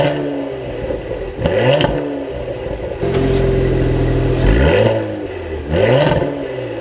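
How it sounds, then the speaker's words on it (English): A 2021 Cadillac CT5-V engine cranks over and settles into a steady idle, with loud bursts of revving rising and falling between stretches of smooth, rumbling running. "we can go ahead and start it up."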